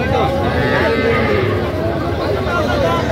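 Cattle lowing at a busy livestock market where native-breed dairy cows are sold with calves, a steady moo rising over a constant crowd hubbub and nearby people talking throughout.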